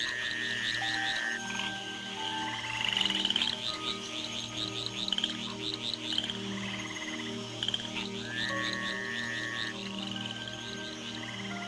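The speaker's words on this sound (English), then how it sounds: "In the wake of the rains, the tree frogs gather for bouts of communal coupling." Tree frogs after the rains calling together in a dense chorus, with pulsing low croaks under repeated high trills and chirps, steady and close throughout.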